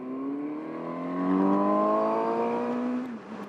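A 2020 Suzuki GSX 750 S Phantom motorcycle engine revs up sharply, its pitch climbing steadily for a few seconds before easing off, loud and close with no talking.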